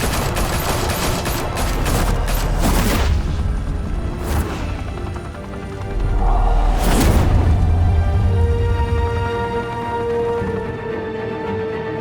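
Gunfire volley in Batman: The Telltale Series video game, a dense burst of rapid shots followed by further loud crashes and booms, close and intense, then fading into a lingering tonal hum.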